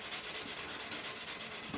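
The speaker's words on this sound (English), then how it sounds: "It's much thicker paper, so it does a lot more sanding than the other grits" Coarse 400-grit sandpaper rubbing steadily on guitar frets during a fret level on a Harley Benton TE-70 Deluxe, a continuous close scratchy hiss with an even back-and-forth rhythm and no voices.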